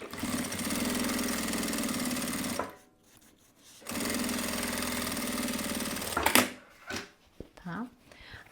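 A sewing machine stitches a seam through fabric with its lining attached, running in two steady, loud bursts of motor whir separated by a short pause, then a few clunks and handling noises as the machine stops.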